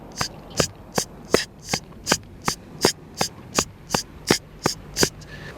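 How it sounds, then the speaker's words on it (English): A drum groove built on an eighth-note hi-hat pattern, with crisp, evenly spaced hi-hat ticks in a steady pulse and a faint low thump underneath, heard up close with no talking. "The next one to do is the 8th note hi-hat, which everyone plays in a million grooves."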